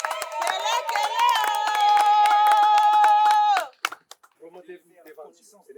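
Guests at a traditional Congolese wedding clap rhythmically under loud, high, sustained voices cheering or singing together. The clapping and voices stop abruptly, and a person then speaks briefly.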